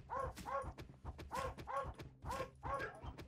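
A dog in the game Iron World barks six times in quick, evenly spaced yelps, close and fairly quiet, with no talk over it.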